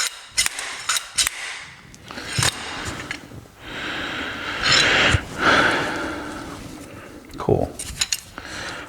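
A small slide hammer clanks in sharp metallic knocks during servicing of a Kranzle KWS-700TS pressure washer, the impacts coming in irregular bursts with scraping and handling noise between them.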